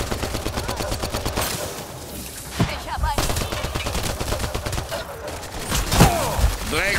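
Rapid automatic gunfire rattles almost continuously in a Mass Effect Andromeda firefight, dense bursts of shots mixed with alien screeches and impacts, with a voice speaking faintly in the background.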